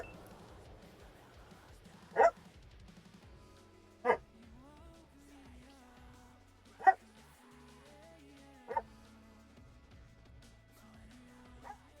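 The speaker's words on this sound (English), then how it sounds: "I'm trying to stream with 2 dogs in the background." Two dogs barking in the background during a live stream, with five sharp, spaced barks of moderate loudness that stand out from a quiet room with faint game sounds.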